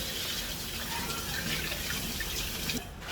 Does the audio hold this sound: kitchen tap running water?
yes